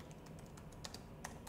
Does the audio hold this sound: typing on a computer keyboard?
yes